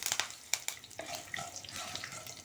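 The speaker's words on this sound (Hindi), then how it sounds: "जैसे ही ये तड़का लग जाता है" Fennel, fenugreek seeds and curry leaves hit hot oil for a South Indian sambar tempering, giving a sharp crackling sizzle with a few pops at the start that settles into a lighter hiss.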